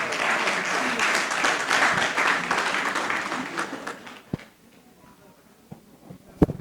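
An audience at a university science week seminar in Senegal applauds the rector, a full burst of clapping that dies away after a few seconds, leaving a handful of scattered, isolated claps in a quieter room.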